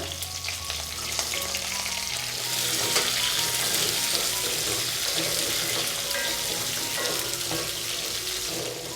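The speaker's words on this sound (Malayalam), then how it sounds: "ഒരു 3-4 മിനിറ്റ് ഒന്ന് മീഡിയം ഫ്ലെയിമിൽ വെച്ചിട്ട് വഴറ്റി കൊടുക്കുമ്പോൾ തന്നെ നന്നായിട്ട് ഇതെല്ലാം വെന്ത് കിട്ടിക്കോളും" Garlic and tomato sautéing in a pan over medium flame, a steady close sizzle with occasional stirring scrapes and faint running-water sounds in the background, no voices.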